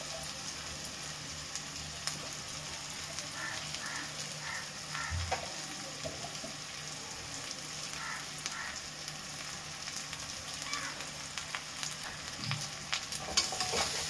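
A mix of potato, carrot and egg frying with onion and capsicum in a pan for a homemade egg sandwich, giving a steady low sizzle with scattered scraping stir strokes throughout and no talk.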